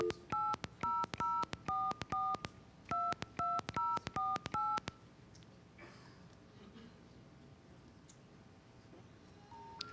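Touch-tone telephone dialing an 800 number, a rapid run of about twenty crisp DTMF beeps in quick groups, loud and close, followed by faint line noise and handling clicks.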